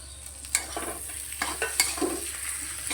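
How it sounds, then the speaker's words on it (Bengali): Chopped tomato being stir-fried with spice paste in a pan, a low sizzle broken by sharp scraping strokes of a spatula at irregular intervals, close and moderately quiet. "টমেটো দিয়েও মশলার সঙ্গে খুব ভালো করে কষিয়ে নেব।"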